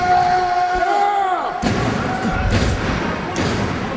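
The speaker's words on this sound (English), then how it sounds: "Look at those shots to the ribs of the deal, Dal Knox." Heavy thuds of wrestling strikes to the ribs land during a heavyweight championship match, several dull impacts over a loud arena crowd, following a fading electronic tone.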